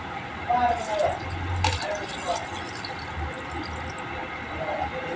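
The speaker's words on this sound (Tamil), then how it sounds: "தேவையான அளவு தண்ணி ஊற்றுறோம்" Water is poured into a pot of chicken curry, a soft, fairly faint splash and trickle over a low kitchen background. A voice talks over it.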